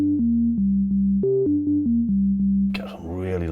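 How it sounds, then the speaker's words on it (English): A Roland Jupiter 4 synth plugin plays an organ patch as a short run of sustained low notes, clean and steady, before a brief burst of other sound at the end. "So you can do organs as well."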